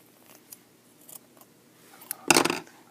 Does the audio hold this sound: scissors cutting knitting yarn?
yes